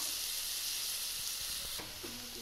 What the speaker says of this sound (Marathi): कांदा तेलात गुलाबी रंग येईपर्यंत परतून घ्यायचा